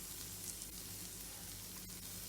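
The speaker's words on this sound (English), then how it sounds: "And coconut and chilies are nicely getting sauteed at the bottom" Coconut and chilies sautéing at the bottom of a pan, a faint continuous sizzle with soft crackling hiss and no voices.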